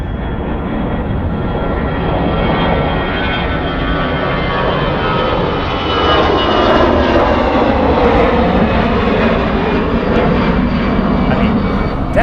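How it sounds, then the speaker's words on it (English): Airbus A319 jet airliner taking off at Charlotte Douglas Airport, with a loud, continuous engine roar that swells slightly and holds steady throughout, heard from nearby outdoors. "Here we got a 319 on the takeoff."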